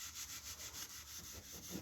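Steel wool rubbed over a Milwaukee jobsite radio during polishing, a faint, steady back-and-forth scrubbing with a regular rhythm and no talking.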